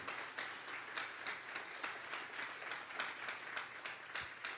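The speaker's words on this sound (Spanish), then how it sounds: "Vamos a darle una ofrenda de palmas a Dios en esta mañana" A congregation at a Sunday morning church service claps together in a steady, dense patter of hands that holds at an even level for several seconds, with no voices over it.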